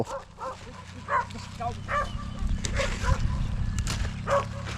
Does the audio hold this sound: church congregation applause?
no